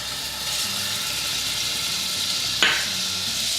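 Onions and garlic sweat in a little oil in a pan, giving a steady close sizzle with soft scraping of stirring and one brief sharp clatter near the end.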